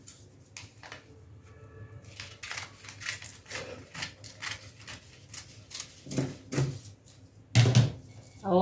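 Scissors snip through paper while a skirt pattern is cut out, a run of close, crisp cuts in an uneven rhythm, with a few louder rustles and handling knocks toward the end.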